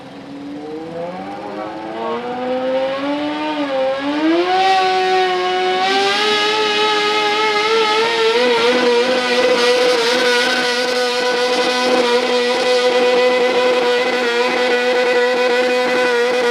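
A garden tractor powered by a motorcycle engine runs at a county fair tractor pull. It rises to a loud, sustained high-revving wail with climbing pitch and stays at full throttle for many seconds, with no talking.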